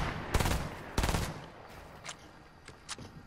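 Gunfire in Fortnite, with two loud bursts of rapid shots up close followed by a few fainter, scattered single shots farther off.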